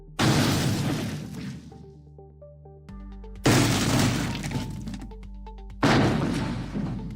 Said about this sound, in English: a big boulder drops and smashes a car